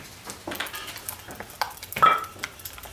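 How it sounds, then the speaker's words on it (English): A stir stick works through a decoy foam mixture in a workshop, giving soft, irregular scraping and swishing strokes close by with a few sharper clicks, no talking. "So I'll just take a stir stick"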